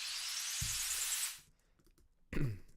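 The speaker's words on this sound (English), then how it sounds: "And then I just added some risers" Risers and small sound effects in a future bass remix: a bright, loud rising noise sweep that cuts off, then a short quiet gap before a burst of noisy effect with a low thump.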